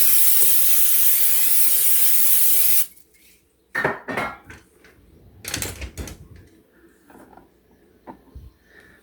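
A steady hiss of cooking spray for about three seconds, followed by scattered clatters and knocks of dishes being handled nearby.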